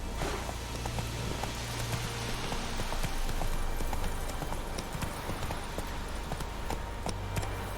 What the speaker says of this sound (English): Come on, Roach. Whoa there, Roach.